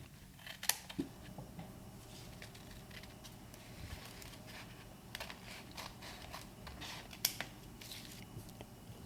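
Scissors trim suit jacket fabric in quiet snips and soft clicks, faint and close, scattered irregularly with small handling noises between cuts and no speech.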